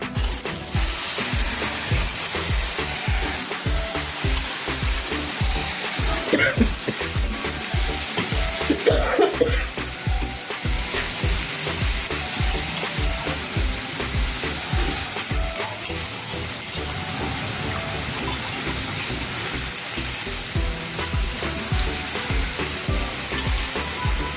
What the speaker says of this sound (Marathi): आता हरभऱ्याची डाळ घालून घेऊयात त्यात